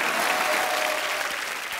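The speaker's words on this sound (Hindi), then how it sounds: "आलिया के लिए ताली बजा दो" Studio audience on The Kapil Sharma Show breaks into dense, steady applause, a loud continuous roar of many hands clapping together throughout the short stretch.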